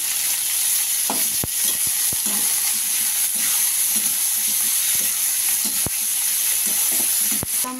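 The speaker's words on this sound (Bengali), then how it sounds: "এবার আমি নাড়াচাড়া করবো।" Ginger, chili and tomato with spices being stirred in a hot pan, giving a steady loud sizzle and hiss throughout, with a spatula scraping and knocking at irregular intervals.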